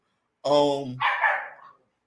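A dog barks at close range, a single harmonic bark followed by a rougher, noisier yelp or second bark, loud and alone against silence.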